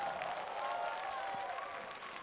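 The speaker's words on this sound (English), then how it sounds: "A big round of applause." Audience applause at a UFC Fight Night Shanghai fan Q&A event, a steady wash of clapping from a crowd that holds even for about two seconds, with faint tonal sounds underneath.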